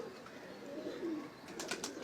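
Pigeons coo softly on a Lahore rooftop, a few low, rounded coos in the first half, then a brief burst of flapping or rustling near the end.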